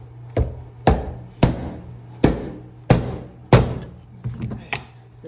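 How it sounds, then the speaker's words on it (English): A heavy hammer strikes wooden chair parts in about eight sharp, close blows at irregular intervals, each ringing briefly before dying away. "That's a heavy hammer too."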